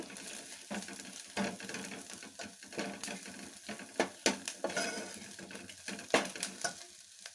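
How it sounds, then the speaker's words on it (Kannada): Spices for pepper rasam frying in a pan, giving a soft crackling sizzle broken by frequent scraping and tapping of a spoon stirring against the pan. "ಇದು ಫ್ರೈ ಆಗ್ತಾ ಇದೆ."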